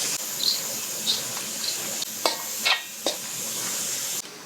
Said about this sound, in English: I am adding 2 cups of taco seasoning to my ground beef, and we're going to mix that all together